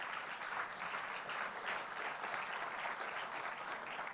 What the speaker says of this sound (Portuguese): E dê um aplauso bem forte ao Senhor.